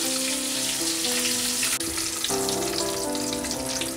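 Eggs fry in hot oil until golden, then get flipped in the pan. A loud, dense sizzle runs throughout, broken by a brief clatter midway as the eggs are turned.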